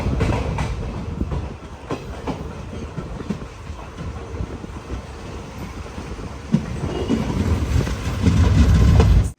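A passenger train on the Cheruvathur to Mangaluru run rolls along steadily, heard from inside, with rumbling wheels, clickety-clack of the rails and a rising roar toward the end.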